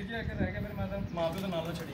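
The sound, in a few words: rooftop pigeons cooing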